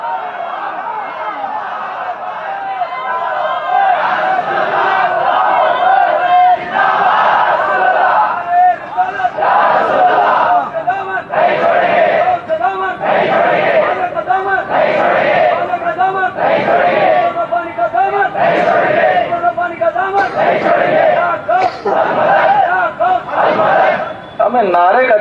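A large crowd at a Sunni religious gathering in Anantapur chants a takbeer response, loud rhythmic shouted bursts repeating about every second or two over a long stretch, with a lone voice leading between them.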